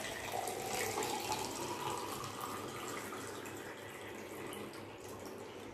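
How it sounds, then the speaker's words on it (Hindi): Water filling a drinking glass, a soft continuous trickle and splash running steadily for several seconds, faint and close with no talking over it. "ये मैंने एक ग्लास ले लिया है और मैं इसमें पानी भर देता हूँ।"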